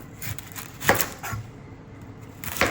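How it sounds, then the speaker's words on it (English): A knife cuts the ends off a large onion on a cutting board, giving two crisp, close chops separated by a short pause in an otherwise quiet kitchen. "I'm going to chop both the ends off"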